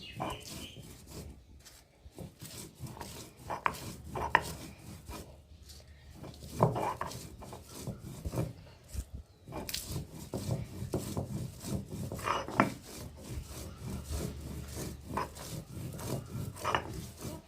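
Dried red chillies are ground into a paste on a stone, a steady rough scraping and rubbing with a rhythmic back-and-forth motion that continues throughout at close range.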